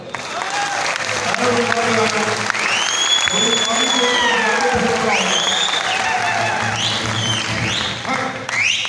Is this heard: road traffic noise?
no